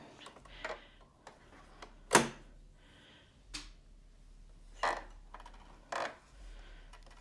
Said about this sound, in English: First I got to thread my machine.